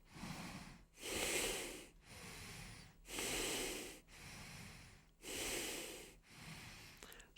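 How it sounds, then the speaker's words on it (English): Deep, rhythmic yoga breaths taken in a held pose: five long, forceful inhale-exhale cycles of about a second each, loud and close, with no talking over them. "Full deep breathing."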